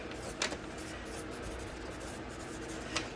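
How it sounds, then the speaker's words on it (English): A Sharpie marker writing on a paper towel: soft scratchy strokes beneath steady background hiss, with two brief squeaky marks standing out. "I will just take a Sharpie and write cucumber"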